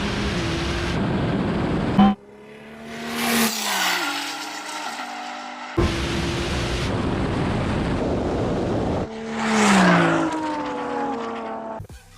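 Roaring high-powered engines from a quarter-mile drag race between a 1600 hp Nissan GT-R, a 1200 hp Audi R8 and a 1100 hp McLaren 720S, surging through gear changes under heavy wind buffeting.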